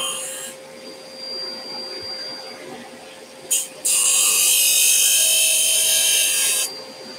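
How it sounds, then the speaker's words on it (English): Belt and disc sander grinding a small wooden mini skateboard, a loud steady high-pitched sanding roar that surges in for a few seconds after a brief first contact, with a motor hum beneath. "Just be a little bit careful when using the belt and disc sander."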